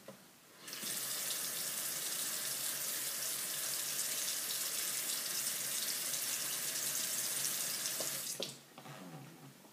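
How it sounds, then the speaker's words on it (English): A nurse washes her hands under a running tap before a patient assessment: a steady, loud rush of water into a sink for about eight seconds, starting and stopping abruptly, with quiet room sound on either side. "Let me just wash my hands and then we'll go ahead and get started."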